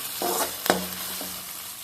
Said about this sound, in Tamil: இப்போ வந்து நம்ம இஞ்சி பூண்டு பேஸ்ட் கூட்டிக்கலாம் இது ஒரு ரெண்டு நிமிஷம் அப்படியே வணங்கட்டும்